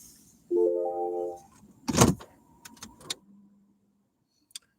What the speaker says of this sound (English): here's the sound of the electric car starting up